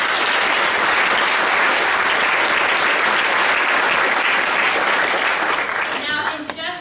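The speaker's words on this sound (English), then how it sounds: "One more round of applause." Loud, dense applause from an audience after a stage performance at McCoys in Missoula, a continuous roar of clapping that holds steady and begins to thin out near the end.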